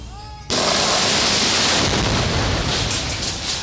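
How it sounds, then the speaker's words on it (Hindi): Explosive blast breaking a large rock, a sudden loud boom that swells into a sustained roaring rumble of stones and debris raining down, dense and continuous to the end. "एक बड़ी चट्टान को ब्लास्ट करके तोड़ने का काम किया जा रहा था"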